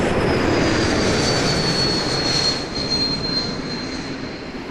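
An Air Portugal Airbus A321neo on short final at Toronto Pearson Airport at night, its jet engines roaring loud and steady with a high whine, easing slightly as it passes.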